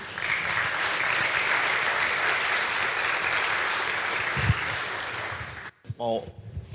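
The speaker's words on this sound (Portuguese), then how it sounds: "Salve de palmas para o grupo pequeno dele." A church audience applauding a small group, a steady, dense round of clapping that runs for several seconds before cutting off, followed by a brief voice.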